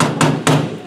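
A small hammer from a little tool kit strikes twice, two sharp close taps about a quarter second apart, each with a short ringing decay.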